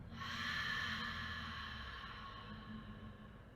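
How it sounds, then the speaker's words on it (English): A single slow exhale during yoga practice, a soft close breath that fades out gradually over a few seconds with no talking. "Last breath, inhale. And exhale."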